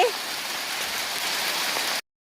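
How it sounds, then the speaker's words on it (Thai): Hail falls from roof eaves in a dense, steady hiss of close pattering for about two seconds before cutting off abruptly. "ลูกเห็บตกมาจากชายคานะคะ นี่ไม่ใช่หิมะนะจ๊ะอันนี้คือลูกเห็บจ้ะ"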